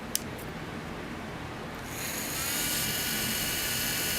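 An electric nail drill fitted with an extra coarse sanding band whirs steadily as fresh acrylic nails are filed, the high buzzing pitch rising and growing louder partway through, with no talking.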